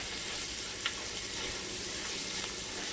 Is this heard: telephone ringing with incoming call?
no